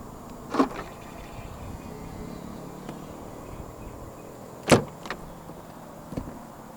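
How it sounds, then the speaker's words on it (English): Proton Persona 1.6 Premium (2022) locking mechanism clunking as the driver's door handle button is pressed: a sharp click near the start, a louder clack about four seconds later, then softer trailing clicks, over quiet ambient hiss. "And to unlock the car, just press the black button again."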